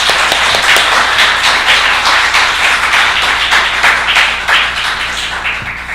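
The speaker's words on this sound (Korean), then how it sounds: "우리 소개해준 재종위원들에게 박수 드릴까요?" A church congregation at a Sunday worship service claps warmly and loudly for a dense few seconds, the applause thinning and fading slightly toward the end.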